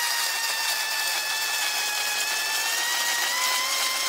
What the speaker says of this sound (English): now I'm ready to drill a hole into the styrofoam balls